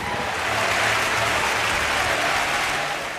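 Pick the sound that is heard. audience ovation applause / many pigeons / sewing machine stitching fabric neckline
audience ovation applause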